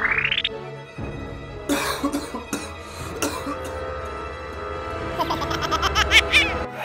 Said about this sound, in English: Turns out that sound was Dad's cough